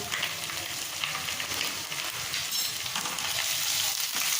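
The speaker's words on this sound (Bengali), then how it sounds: "গ্যাসের ফ্লেমটাকে লো করে আদা রসুনটা একটু ভেজে নেব।" Ginger-garlic paste fries on a low flame in a pan, giving an even, continuous hiss with faint stirring scrapes, close and uninterrupted by voices.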